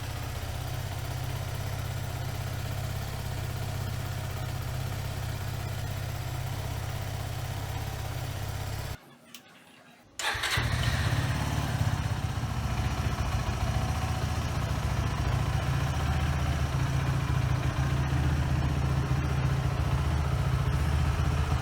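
Suzuki Gixxer 250 motorcycle engine idling steadily at close range, a continuous low even throb that briefly drops out and then returns at the same level.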